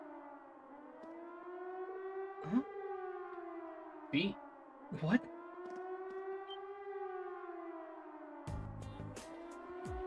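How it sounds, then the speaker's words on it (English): A civil-defense-style siren wails from a fort in the video game Trails of Cold Steel, its long tone rising and falling in repeated sweeps at a moderate distance, while brief spoken exclamations cut in. "It sounds like a siren. Seems to be coming from the fort."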